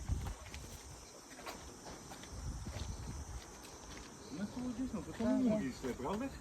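Cicadas buzz in the summer heat as a steady high-pitched drone along a walking route, with some footsteps and faint rustling, and a voice briefly joins near the end.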